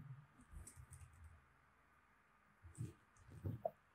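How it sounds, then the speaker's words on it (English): Quiet computer keyboard typing while entering text with the horizontal type tool in Adobe Photoshop, heard as scattered short bursts of soft clicks with pauses between them and no talking. "I'm going to type here"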